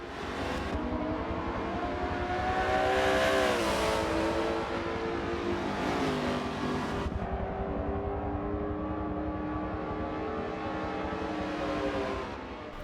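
Ford Mustang race car engine in Forza, a steady loud roar with shifting pitch as it revs and accelerates, a brief surge and drop midway, then a sustained drone.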